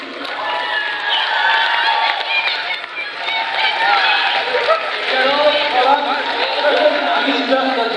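A crowd at an ice cream eating contest cheers and claps for the contestants, a loud, continuous roar of voices, whoops and chatter mixed with scattered applause.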